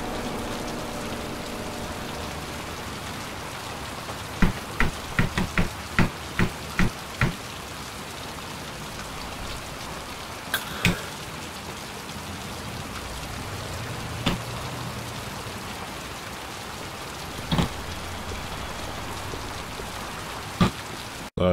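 Rain from the game Heavy Rain falls as a steady hiss, with scattered sharp drips and taps, heaviest in a quick run of ticks early on, with no voices.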